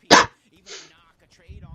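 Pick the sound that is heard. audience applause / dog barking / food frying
dog barking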